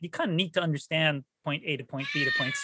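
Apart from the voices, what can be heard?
cat meowing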